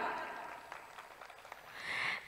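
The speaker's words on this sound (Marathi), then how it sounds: "म्हणून जरा एकदा जोरदार टाळ्या स्वतःसाठी वाजवा." An audience claps at a ward 1 campaign meeting in Walivali village, a dense, steady patter of many hands that swells louder near the end before stopping abruptly.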